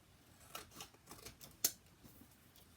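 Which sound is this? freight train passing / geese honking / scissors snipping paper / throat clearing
scissors snipping paper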